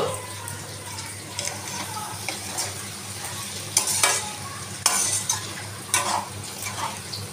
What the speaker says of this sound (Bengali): নাড়িয়ে দিলাম।